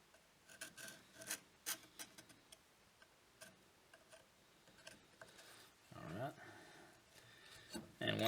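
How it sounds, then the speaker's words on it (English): A scribe scratching around the outline of a knife handle on a forged Damascus bushcraft knife, quiet short raspy strokes and ticks in an irregular rhythm, with a longer scrape near the end. "I'm just going to scribe around the outside."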